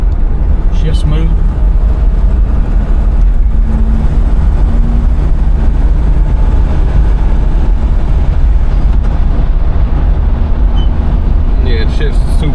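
The engine of a 1967 Pontiac Firebird rumbles on the road while gears are shifted, a loud, steady low-frequency drone with road noise throughout and occasional faint clicks; talk can be heard over it.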